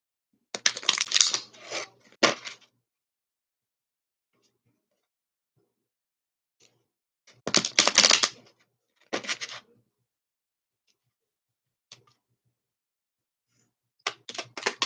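A deck of moon-themed oracle cards shuffled by hand in short bursts of crisp riffling and flicking, three separate rounds with quiet pauses between, close and fairly loud.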